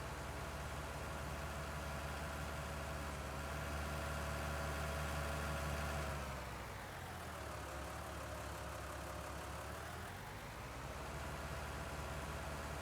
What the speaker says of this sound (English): When I left this tractor running.